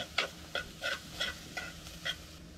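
Chili powder stirred into a frying tempering in a pan: about seven short scraping stirs, evenly spaced and close, over a steady low sizzle, with no voices.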